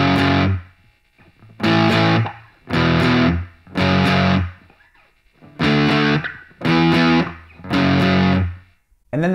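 Distorted electric guitar plays a song's intro chord sequence, seven loud chugging chord hits in a steady rhythm separated by brief gaps, with no talking.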